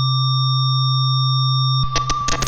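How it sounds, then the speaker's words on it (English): A pure mathematical sine wave at a single frequency holds steady and loud for nearly two seconds, then cuts off into a brief burst of choppy, broadband synthesized sound. "our point of departure is always a pure mathematical sine wave, consisting of only a single frequency"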